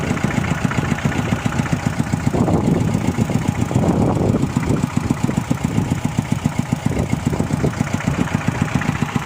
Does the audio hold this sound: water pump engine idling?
yes